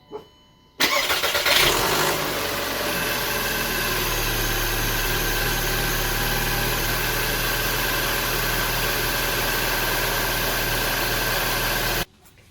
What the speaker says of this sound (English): Okay, so the engine's running and everything seems fine